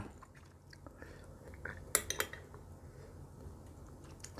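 A metal spoon clinks against a dish while chili dipping sauce with fried shallots is ladled onto a shucked giant oyster, giving a few quiet, close taps and scrapes over a soft background.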